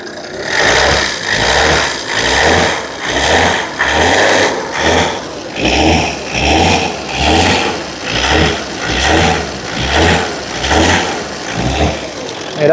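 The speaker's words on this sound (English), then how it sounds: "Do you want to give it a rev for me, up and down?" A Volvo XC90 engine with a DPF fault revs up and down repeatedly, its loud, close drone rising and falling in a steady cycle of about one second each.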